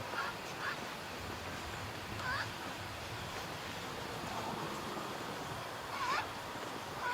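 A pet duck quacks near a swamp, a few short quacks scattered over steady outdoor wind and water-like background noise, moderately faint.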